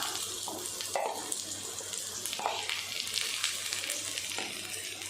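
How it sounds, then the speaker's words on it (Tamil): Onion and garlic paste sautéing in a pan for sorrel leaf thokku, a close, steady sizzle and crackle with a few louder pops over a low background hum. "விழுது சேர்த்துட்டு நல்லா வதக்கிடலாம்."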